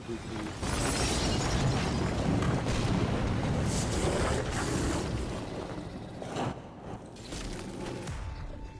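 Grenade explosions in the action game DmC: Devil May Cry, a dense rumbling wash of loud blasts and mechanical clatter that runs continuously before easing slightly toward the end.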